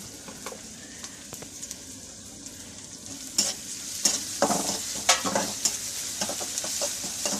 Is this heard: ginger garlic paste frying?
yes